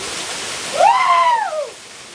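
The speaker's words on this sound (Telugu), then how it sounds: "ఆ వాటర్ ఫాల్ చూపిస్తాను చూడండి" A waterfall at Araku gives a steady, even rush of falling water, with a brief rising-and-falling whistle-like tone sweeping over it midway.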